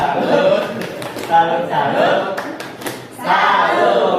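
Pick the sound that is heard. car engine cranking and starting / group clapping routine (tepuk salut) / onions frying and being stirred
group clapping routine (tepuk salut)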